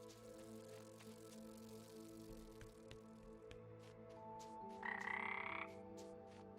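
Frogs croak in the video game Omno, a steady layered chorus of low croaks over soft ambient music, with a brighter tonal chime rising briefly near the end.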